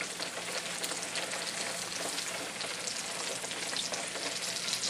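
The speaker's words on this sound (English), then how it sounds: "it back slowly into the oil and continue to cook at 5-minute intervals" A turkey deep-fries in hot oil, giving off a loud, dense, steady sizzle and crackle of bubbling oil from close by, with no voices.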